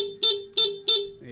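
A Honda Click V3 scooter horn sounds three times in even bursts with brief gaps, switched on while the engine stays off, then cuts off with a faint lower tail.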